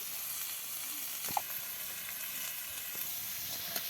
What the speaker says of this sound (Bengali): আলু তরকারি রান্নার জন্য গরম তেলে পেঁয়াজ কুচি আর কাঁচামরিচ কুচি দিয়ে দিল সব রকমের মশলা বাটা